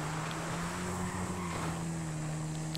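Motocross bike ridden in GTA 5, a steady droning engine hum with a low constant pitch and wind rush, continuous and fairly loud throughout, with no voices.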